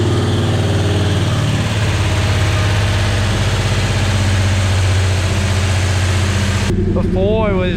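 A car engine fitted with an original Quadrajet carburetor idles steadily and loudly, with a rattle from a loose handbrake cable mixed into the rumble. The engine cuts away near the end, and a voice is heard under the idle.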